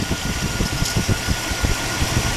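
A car engine idles steadily with a low, even rumble and a faint rhythmic ticking from the belt tensioner, heard up close with no voices.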